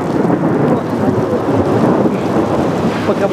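A summer thunderstorm in Kimovsk, with heavy rain pouring steadily on surfaces and thunder rumbling through it, loud and continuous with no speech.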